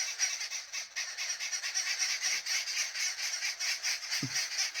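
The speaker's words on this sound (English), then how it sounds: "they're screaming at those birds there, because there's two posses" Two rival groups of birds in the trees scream at each other, making a dense, continuous chorus of shrill calls that holds steady throughout with no pauses.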